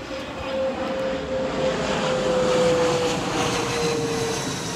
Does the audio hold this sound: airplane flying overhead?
yes